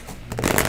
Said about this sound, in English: I'm going to let you shuffle first